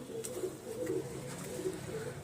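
Pigeons in a loft coo softly in low, rolling murmurs, several birds overlapping in a steady warble with no talking.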